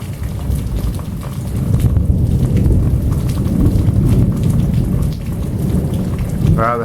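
Heavy monsoon rain pours steadily during an August storm in Arizona, heard from inside a house, with deep rolling thunder swelling and rumbling beneath the downpour for most of the stretch.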